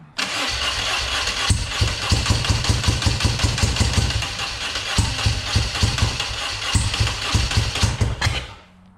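Small engine running steadily after a choke adjustment, loud and close, with a rapid uneven chugging pulse that stutters briefly midway before carrying on, then cuts off at the end.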